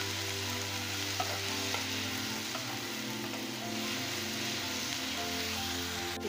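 Onion, capsicum and tomato pieces frying in oil for suji manchurian, a steady close sizzle with occasional stirring clinks running throughout, no talking.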